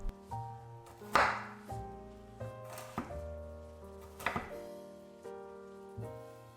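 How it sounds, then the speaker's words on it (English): A knife julienning kohlrabi on a board gives a handful of sparse, crisp chops at irregular intervals, set against soft background music. "Julienne the kohlrabi to be around the same size as the carrot."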